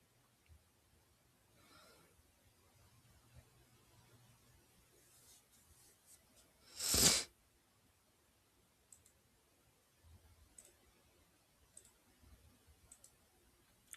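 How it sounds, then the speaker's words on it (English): A single computer mouse click in a quiet room, one short sharp tap standing alone amid faint background noise. "So I will click on the edit button."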